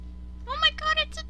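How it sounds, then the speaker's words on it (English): A tiny puppy in The Sims 3 whimpers in three short, high, wavering whines that rise over a steady low hum. "it's a tiny puppy!"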